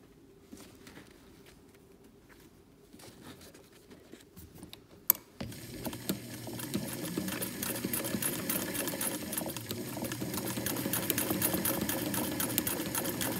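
A sewing machine stitches side seams, starting after a few seconds of quiet handling sounds and then running as a steady, close, whirring mechanical chatter to the end.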